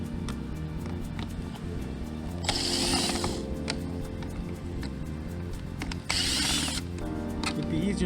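Screws being unscrewed from the front bumper bezel of a 2016-2017 Mitsubishi Lancer, with close ratcheting clicks and two louder bursts of tool whirring, no talk.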